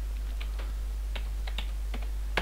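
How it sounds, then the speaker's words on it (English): Keystrokes on a computer keyboard while entering a command in a Minecraft server plugin, a sparse run of crisp clicks with irregular gaps, ending in one louder tap, close and alone with a steady low hum beneath. "The first thing you need to do to change message is Regios set, and so I'm typing set"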